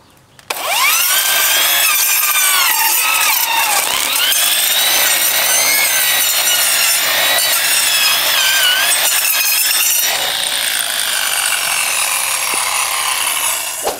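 An OSUKA cordless electric grass trimmer cuts steadily and loudly up close for over ten seconds, a high-revving whine mixed with rough shredding and rasping as it works through the vegetation, alone without talk.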